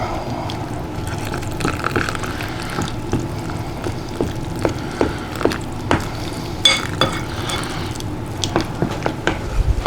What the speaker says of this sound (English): Just stir and let, pour the rest of the water in there, Christine.